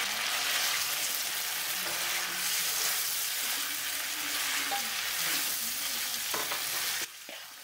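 Spices frying in a pan with pointed gourd and fried potatoes for a Bengali prawn curry, giving a continuous moderate sizzle with soft stirring scrapes; near the end it drops suddenly to near quiet.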